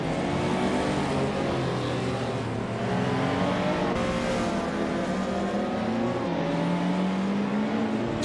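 A vintage Lamborghini Countach LP 5000 QV racing in a video game, its engine droning loudly and continuously with rising and falling revs, and no voices.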